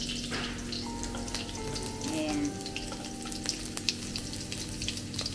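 Green chili and hing sizzle in hot oil in a home kitchen in India, a steady close crackling fry with faint tonal hums and light clinks over it.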